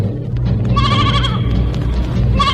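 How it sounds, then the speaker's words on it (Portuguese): A young lamb bleats loudly in a radio drama sound effect, with repeated wavering cries over a steady, full background of rural ambience. "ele ouviu um dos cordeirinhos."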